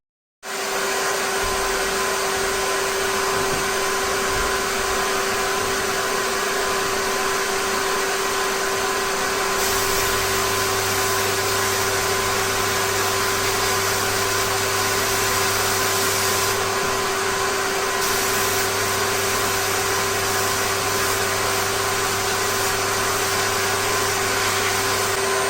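Sandblasting of small motorcycle brake caliper parts in a cabinet: a loud, continuous hissing roar of blast air with a steady underlying hum that shifts slightly partway through, no talk.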